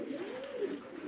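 Fancy pigeons coo at a pigeon farm in Faridpur, a low, wavering throaty call rising and falling close by over a faint background hum.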